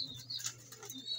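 A pet pigeon, a fancier's bird, lands with soft wing flaps and low cooing close by, the sounds blending into a continuous faint rustle with brief chirpy notes over a steady background hum.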